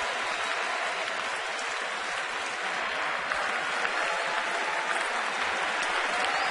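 Sustained applause and cheering from a baseball stadium crowd of tens of thousands, a dense, steady wash of clapping that holds evenly from start to finish, with a faint voice underneath.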